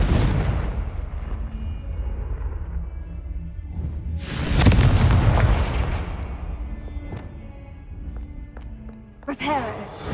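In Hogwarts Legacy, a Confringo fire spell bursts with a loud booming explosion that rumbles and decays over a few seconds, followed later by another sharp magical blast amid lighter game effects.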